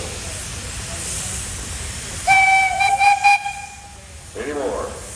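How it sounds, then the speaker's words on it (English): Steam tractor at a parade sounds its whistle in a bright, shrill blast that wavers and pulses for about two seconds over outdoor crowd murmur. A short squeal follows after it. "You got a whistle."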